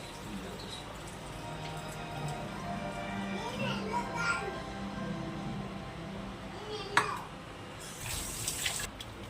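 Tamarind juice pours steadily into a pan of Telangana-style goat head curry frying on the stove, a continuous watery splash running several seconds with faint voices in the background.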